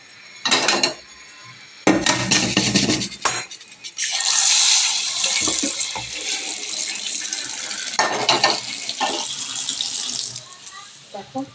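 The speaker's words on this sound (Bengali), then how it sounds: "কড়াইটাকে আগে ধুয়ে নেবো একটু জল দিয়ে।" Water splashes and pours over a metal wok (kadai) being rinsed in a home kitchen, in uneven bursts with faint scraping and clinks, close and fairly loud.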